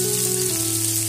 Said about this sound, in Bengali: পেঁয়াজটা দিয়ে আমি একটু নেড়ে নেব।